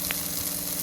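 Onion, tomato and spices for bisi bele bath sizzle steadily in a hot pan, a close, continuous hiss with no speech.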